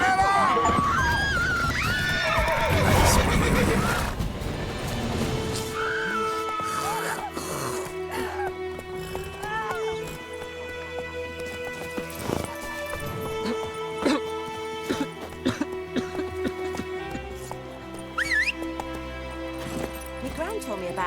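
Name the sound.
horse neighing and hooves in video game Witcher 3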